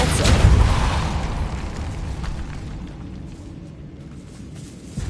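Depulso force spell cast in Hogwarts Legacy, a single loud whooshing burst at the start that decays into a fading rumble, with a faint click at the very end.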